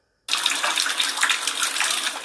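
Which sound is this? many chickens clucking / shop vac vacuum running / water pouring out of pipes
water pouring out of pipes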